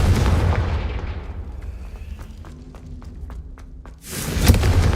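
Confringo blasting spell in Hogwarts Legacy, a heavy rumbling explosion that fades into a quieter stretch of rhythmic footstep-like taps before a second loud burst erupts at the end.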